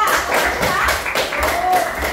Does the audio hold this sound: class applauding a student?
yes